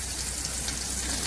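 Freshwater farm fish dropped into well-heated oil, a dense, loud, continuous sizzle right up close, with no voices.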